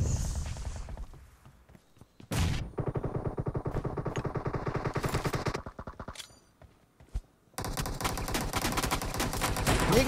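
Bursts of rapid automatic gunfire in a video game, loud and close, with several long rattling volleys separated by short pauses and single sharp shots.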